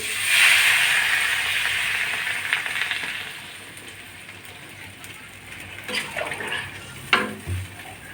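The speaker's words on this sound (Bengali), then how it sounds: "আমি এখন জলটা দিয়ে দিচ্ছি" Water poured into a pot of thin rohu fish curry with potato and drumstick, a steady splashing pour that fades, followed by a few light clinks of utensils near the end.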